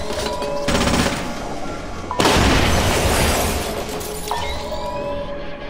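A frag grenade going off in Splinter Cell Conviction amid a firefight, with rattling weapon fire at first, then a loud broad explosive blast that rumbles and decays over several seconds, a further crack following.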